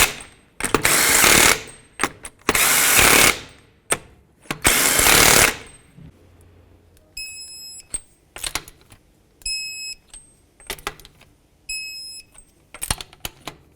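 A power tool snugs the five lug nuts on a 2003-2007 Nissan Murano front wheel in loud, close rattling bursts with short pauses between them, alongside a few faint electronic beeps.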